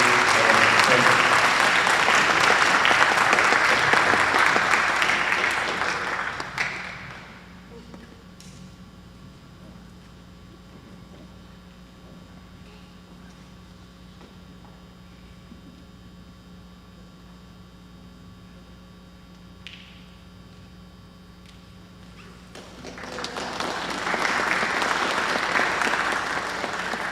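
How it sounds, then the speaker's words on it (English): A round of applause at a school district governing board meeting, with dense clapping for several seconds that fades into room hum, then a second burst of clapping near the end. "please, one more amazing round of applause for the staff, the students, and the community"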